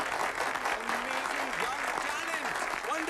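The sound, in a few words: audience applause for a stage performance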